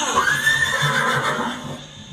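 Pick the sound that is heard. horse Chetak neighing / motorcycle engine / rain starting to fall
horse Chetak neighing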